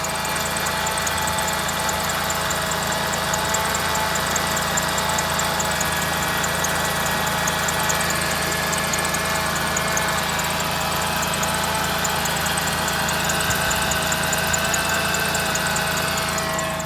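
The engine of a 1999 Ford Taurus SE idles steadily with a new belt fitted and the alternator charging, giving a loud, even hum with a faint whine running over it. No one speaks.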